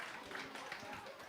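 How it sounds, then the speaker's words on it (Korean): Children at Namseoul Church's elementary Sunday worship applaud two friends, a thick, continuous clapping that fills the room at low volume with voices mixed in. "우리 수고해준 두 친구에게 큰 박수로 격려해 주세요"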